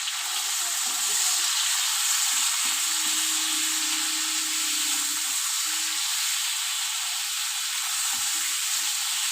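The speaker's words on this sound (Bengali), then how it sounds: "দিয়ে বেশ ভালো করে আমি ভেজে নেব।" Puti fish with tomato, turmeric and salt frying in a pan makes a constant hissing sizzle with a faint intermittent tonal hum underneath, steady and uninterrupted, with no talking.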